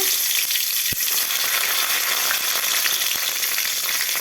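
Cumin, bay leaf, green chilies and garam masala frying in hot oil give a steady, dense sizzle, close and continuous, with a couple of faint clinks of a utensil.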